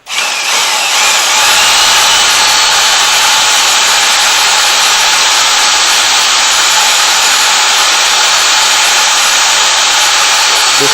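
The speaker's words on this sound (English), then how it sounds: "Now we will clean the tool off by spinning it, free-spinning it in an empty bucket." An electric drill free-spins a paste mixing tool inside an empty bucket, a loud, steady high whine that starts abruptly and holds constant throughout with no speech.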